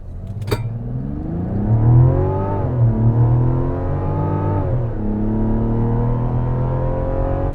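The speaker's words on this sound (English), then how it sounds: "Now let's try a quick acceleration test." A 2024 Mazda CX-90 Turbo runs a 0 to 60 acceleration test, its engine note rising through the gears with distinct upshifts, heard loud and close from inside the cabin with no talking.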